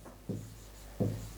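A pen writing the word gastrocnemius on a board during a muscular system lesson, two short scratchy strokes close up against a quiet background.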